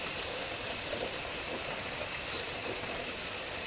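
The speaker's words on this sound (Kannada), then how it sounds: "ಇವಾಗ ಎಷ್ಟು ಮಳೆ ಬರ್ತಾ ಇದೆ ನೋಡಿ ಇಡೀಲಿ ಜೋರು ಮಳೆ ಬರ್ತಾ ಇದೆ" Heavy rain falling steadily during the monsoon season in Kodagu, a dense unbroken roar of water with no voices, loud and close throughout.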